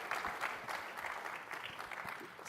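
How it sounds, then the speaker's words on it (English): Conference session audience applauding for a presenter named Adriana: a brief burst of moderate clapping from a roomful of people, fairly even and sustained, heard at a distance without talk. "I think that deserves a good applause for her"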